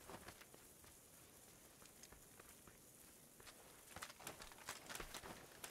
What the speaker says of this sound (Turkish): Yağmur yağdı